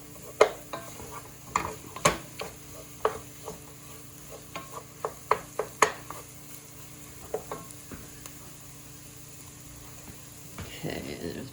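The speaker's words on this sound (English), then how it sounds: "I just want to cook this for a good minute to get that raw flour taste out." Flour roux cooking in a pot for a Hungarian creamy mushroom soup, heard as scattered sharp clinks and scrapes of a utensil stirring against the pot over a quiet low hum, with a soft rush toward the end.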